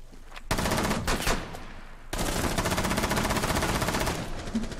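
Rapid bursts of automatic gunfire in the video game Rainbow Six Siege, team deathmatch, loud and continuous, with a brief lull before a sustained stretch of rattling shots.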